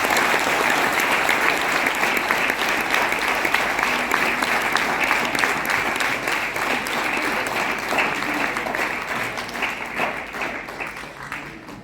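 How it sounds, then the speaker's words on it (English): Sustained applause from a student audience welcoming the chief guest at a university address, a steady dense clapping that stays loud throughout and tapers only slightly toward the end. "I request all the students to please welcome sir with a big round of applause"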